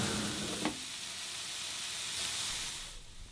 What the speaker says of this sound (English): While the pancetta is cooking